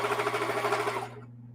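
A sewing machine with a metal presser foot stitches a quarter-inch seam on scrap quilt strips, a fast steady motor whir with rhythmic needle pulses close by, stopping abruptly near the end.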